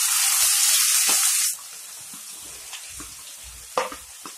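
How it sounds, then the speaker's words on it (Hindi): Okra dropped into hot oil already browned with chillies and cumin gives a loud burst of hissing sizzle for about a second and a half, then settles into quieter crackling with occasional pops. "मिर्च जीरा ब्राउन हो चुका है। अब हम इसमें भिंडी को छोड़ देंगे।"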